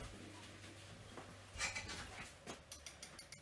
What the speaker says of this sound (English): what I've got here are 2 eggs, and we're just going to beat them together